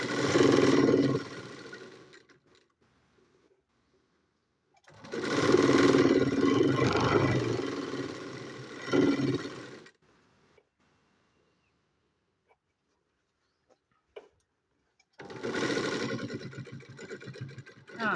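An electric sewing machine stitches a uniform dress in three loud bursts of whirring, separated by quiet pauses with a few small clicks of the fabric being handled.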